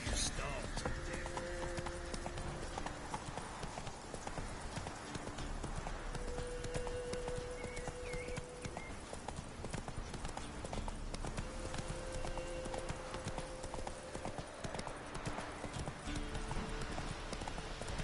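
Roach, Geralt's horse in The Witcher 3: Wild Hunt, gallops with a steady, rapid hoof clip-clop and the odd whinny, running continuously beneath game dialogue and background sound.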